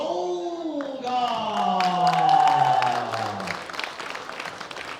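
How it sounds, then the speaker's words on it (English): Audience applause for a junior men's 74 kg bench press gold medallist from Russia at the 2016 World Bench Press Championships, a steady wash of clapping that swells mid-clip, with a voice and musical tones sounding over it. "A round of applause for Pavel Dolga."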